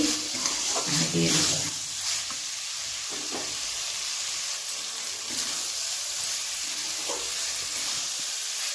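Mushrooms in masala frying in a pan give a steady sizzle through the whole stretch, with a few louder scraping stirs near the start and brief soft clinks later.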